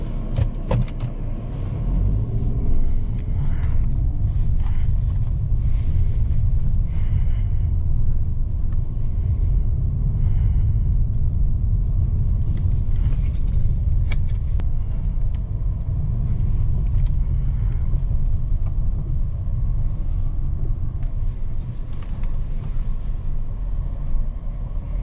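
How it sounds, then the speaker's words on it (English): A 2022 Peugeot 508 GT engine hums and rumbles steadily from inside the cabin while driving, with constant road noise and no talking. "Now let's drive the 508 GT and see how it performs."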